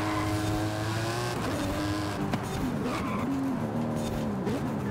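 Powerful S2 GT class race car engine in Forza Horizon 5 at Okayama International Circuit, droning loudly and continuously with shifting pitch as it revs and accelerates, tyres briefly squealing.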